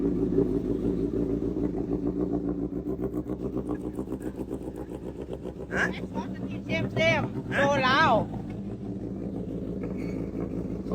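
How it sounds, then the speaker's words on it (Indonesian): A Honda CBR1000RR superbike idles with a steady, throbbing engine hum, close to the microphone, while someone talks briefly over it partway through. "Ini kita cek sound. Mungkin kalian kayak kemarin belum cek sound motor ini ya."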